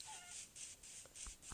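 Chicken in the Minecraft video game, a few quiet short clucks and pecking clicks over a faint hiss, heard alone without talk.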